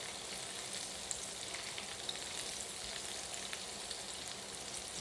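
Okra cakes and green tomatoes in cornmeal coating fry steadily in hot oil, a dense, even sizzle with faint crackles and pops running throughout without pause.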